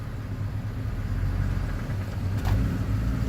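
A Ford Mustang engine runs steadily as the clutch is slowly let up, a continuous low rumble close by with a slight swell near the end and no talking.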